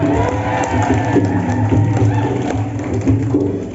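Audience of teachers at a teacher-training workshop in Samarinda clapping, a loud, crowded rattle of many hands with a few thumps and murmurs underneath.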